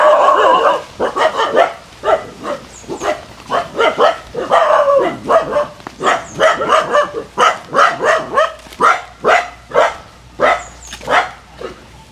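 A dog barks repeatedly and loudly close by, a long run of sharp barks mixed with yips and whimpering whines in an irregular rhythm, with no talk over it.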